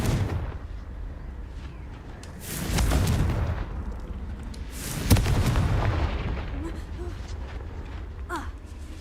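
Fire spells explode in the Hogwarts Legacy video game: two heavy booming blasts a few seconds apart, each rumbling and fading over a low ambient drone.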